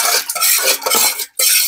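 Milk is whisked with salt and sugar to make ghol, a Bengali buttermilk drink, with quick scraping, clinking strokes of a utensil against a bowl and a brief pause near the end.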